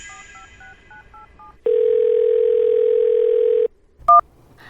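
A series of short telephone keypad beeps as a number is dialed, then a steady, loud dial tone holding for about two seconds, followed by a brief higher beep.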